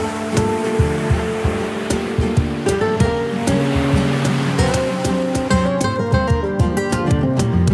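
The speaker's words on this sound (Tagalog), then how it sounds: "May payapang kapaligiran at mga dambuhalang alon ng karagatan." Big ocean waves crashing steadily on a beach at General Nakar, Quezon, a loud continuous surf roar with rolling surges throughout.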